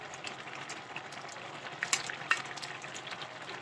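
Spinach and fritter curry fries in a pan, a steady close sizzle with a few sharper scrapes and clicks of a spoon stirring through it.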